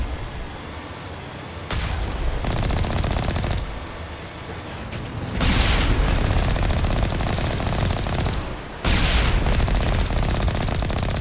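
Rapid cannon gunfire in the video game Mass Effect, dense rattling bursts of loud automatic shots that start and stop abruptly in three sustained volleys, alone without talk.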